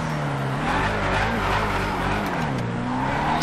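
In GTA 5, a drift car fitted with a twin-turbo 5.0 Mustang engine roars at high revs in a continuous loud drone, with tires hissing and skidding throughout and no pauses.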